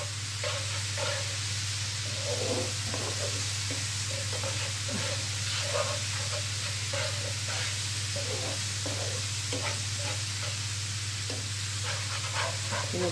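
Steady crackling sizzle of garlic frying in hot oil, continuous and fairly loud, with small pops scattered throughout and a low hum underneath.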